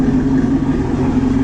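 Steady, deep idling growl with an even drone from a 2017-2019 Camaro ZL1 fitted with a Corsa exhaust, held at roughly 3,500 RPM, loud and close with no talk over it.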